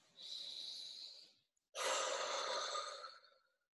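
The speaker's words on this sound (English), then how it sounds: "So just take a deep breath right now." Two deep, audible breaths during a guided breathing exercise at an online event, a long inhale then a short pause and a longer, louder exhale, close and breathy with no talking.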